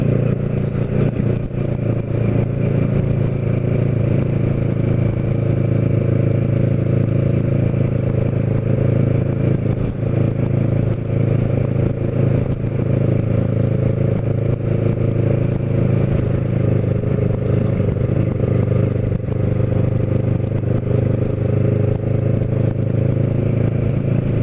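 A Ninja motorcycle ridden through the Wildwoods in January, its engine a continuous mid-pitched drone mixed with strong wind rush, steady throughout with no voices.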